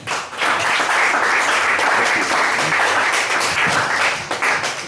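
A comedy club audience breaks into steady, loud applause for a stand-up comedian, with dense clapping holding evenly throughout before tapering slightly at the end.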